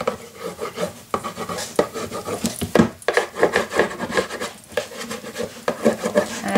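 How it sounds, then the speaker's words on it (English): Edges of a memory box kit being burnished by hand, a steady dry rubbing and rasping against wood or board in repeated short strokes, close and fairly loud with no talk. "I just like to burnish the edges a little."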